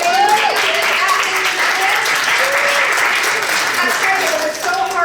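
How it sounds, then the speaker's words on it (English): Steady, dense applause with scattered cheers and whoops fills a room at an awards event, sustained and loud throughout with voices mixed into the crowd. "I see some others cheering in the audience."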